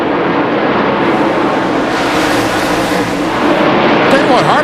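NASCAR Busch Series stock cars race past at night, a loud, continuous roar of engines that swells and holds as the field goes by, with a commentator talking over it.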